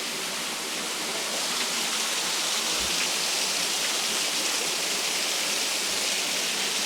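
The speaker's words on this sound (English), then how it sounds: "And here the waterfall cascades into this little waterway" A broad, constant roar of a garden waterfall pouring into a small waterway, steady and full throughout with no voices.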